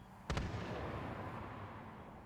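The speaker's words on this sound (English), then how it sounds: "They're trading off shots with each other, but none of them are hitting" A quick pair of sharp gunshots rings out in a competitive shooter video game, followed by a fading reverberant tail over quiet background.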